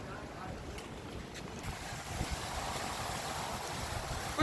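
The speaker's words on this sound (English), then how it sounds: "It's just a little windy" Wind gusts buffet the microphone on a beach ahead of Hurricane Sally, a steady low rumble with surf-like hiss behind it that swells a little louder in the second half.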